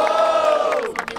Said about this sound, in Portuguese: Barulho para as rimas de Refrão!